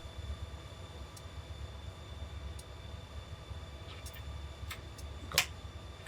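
A Union Pacific GP50 diesel locomotive in Train Simulator on Donner Pass idles with a steady low engine rumble, a few faint ticks and clicks over it and one brief sharper click near the end.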